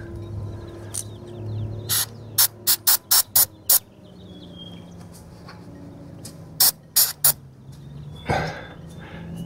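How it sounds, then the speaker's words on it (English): An aerosol can of Corrosion X sprays in a series of short, sharp hissing bursts, several in quick succession, then a pause and three more, close and clear over faint background noise. "And I'm just going to spray that with a little bit of Corrosion X."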